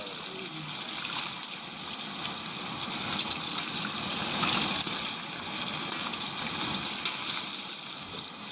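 Hot oil sizzles in a wok for frying during a rooftop family picnic, a continuous hissing, crackling spatter that stays loud throughout with people talking faintly in the background.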